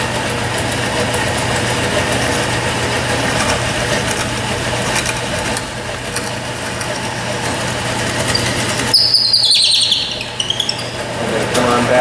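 An AGED 240 drill press drills a hole in a board, its motor holding a steady, close mechanical hum throughout, with a brief brighter whine near the end.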